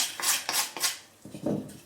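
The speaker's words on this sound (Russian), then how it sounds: "Морковь буду нарезать соломкой. Натирать вот на такой терке." Carrot rubbed on a kitchen grater into thin strips gives four or five quick, close rasping strokes, sharp and bright, then a softer scrape, with no talking.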